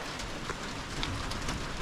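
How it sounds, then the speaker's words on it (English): Steady rain patters outdoors during a thunderstorm, a soft continuous hiss of drops with no distinct thunder clap standing out and no voices. "It's raining and thundering"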